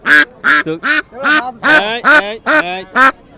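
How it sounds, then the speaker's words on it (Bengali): Ducks quacking at a rural village market in Bangladesh, a run of loud, close, nasal quacks in quick bursts, about ten calls in rhythmic succession with hardly any pause between them. "এই হচ্ছে সেই হাঁস"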